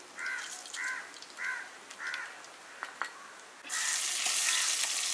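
A crow caws several times in a steady rhythm, then mustard seeds hit hot coconut oil in a loud, bright sizzle that continues to the end.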